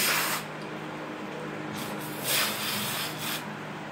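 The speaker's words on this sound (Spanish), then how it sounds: "Yo voy a limpiarla con spray tumba trabajos" A steady hiss of aerosol spray directed at a prepared candle, running for several seconds with a few stronger surges, close and alone with no talk.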